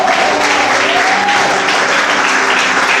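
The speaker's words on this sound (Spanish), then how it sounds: "Denle un fuerte aplauso al Señor." A church congregation breaks into loud, sustained applause at a worship service, dense clapping filling the space steadily with no pauses.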